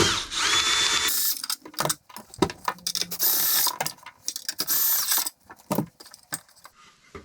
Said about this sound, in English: all you gotta do is take these three nuts off of these bolts